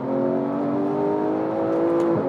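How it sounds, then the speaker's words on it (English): A Porsche 991.1 GT3's race-derived engine, mounted in the rear, revs loudly, sustaining a dense, smooth high-pitched howl for a couple of seconds before easing off. "There is so much character to this engine, which to all intents and purposes is a race-derived engine shoehorned into the back"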